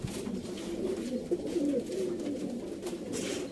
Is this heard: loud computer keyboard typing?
no